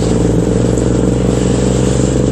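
A Triumph Rocket 3 GT motorcycle engine runs loud and close with a deep, steady throbbing drone as it gently revs and pulls away, with no voices over it.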